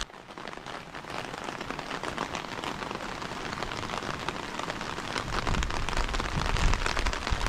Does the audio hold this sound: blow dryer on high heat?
no